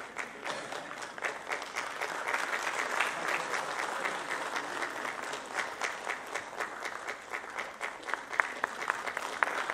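Audience applause fills a milk producers' day celebration and award ceremony, a sustained round of many hands clapping, fairly steady and moderately distant, with no speech over it.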